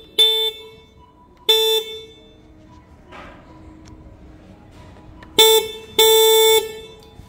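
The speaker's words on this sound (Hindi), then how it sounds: "मैं अपना स्कूटर का एक बार हॉर्न का साउंड आपको देखा होगा" A 2023 Ola electric scooter horn beeps four times: two separate short honks, a pause with faint background, then two more close together, loud and clear.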